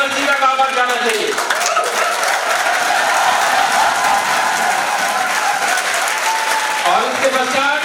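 Sustained applause from a seminar audience fills the hall, dense and loud from start to finish, with a voice briefly audible at the opening and close.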